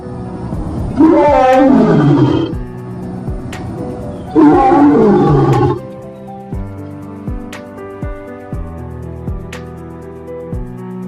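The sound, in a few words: lion roaring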